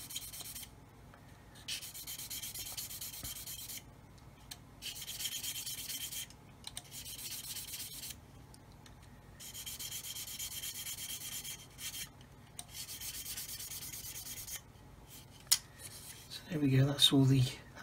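A 400 grit sanding stick rubs back and forth across a small 1/35 scale model kit part in steady raspy bursts separated by short pauses, close and fairly quiet.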